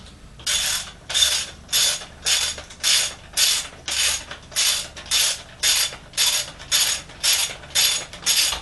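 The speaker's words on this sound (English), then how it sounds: "Now we're going to go ahead and screw that piston rod bolt in." A steady ratcheting tool clicks in quick, evenly spaced bursts, about two per second, as a Showa fork piston rod bolt on a CR 250 is screwed in, close and clear with no talking.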